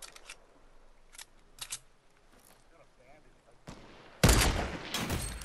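Video game gunfire crackles in short bursts, a few quiet shots early and then a loud, dense volley near the end, with scattered talk between.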